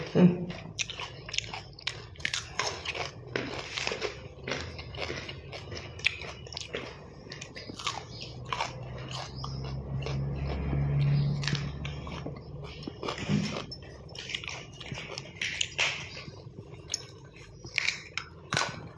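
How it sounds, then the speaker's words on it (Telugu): Someone eats raw cucumber and carrot up close, with a steady run of crisp, crunchy bites and chewing throughout and an occasional light clink, while people talk now and then. "దోసకాయ తిన్నా, క్యారెట్ తిన్నా"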